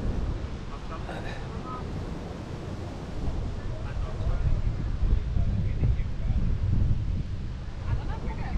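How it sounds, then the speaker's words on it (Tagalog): Strong ocean surf surges as a broad, continuous roar beneath a person talking, swelling louder partway through, with wind buffeting the microphone throughout. "Lakas ang alon no."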